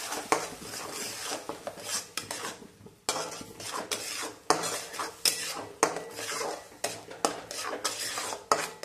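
Ground masala paste sautéed in a pan for a rajma curry: rhythmic metal spoon scraping and clattering against the pan in quick repeated strokes over a soft sizzle, close up with no voices.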